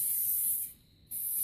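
Close aerosol waterproofing spray hissing continuously onto suede or nubuck sneakers, with a brief pause before the spraying resumes.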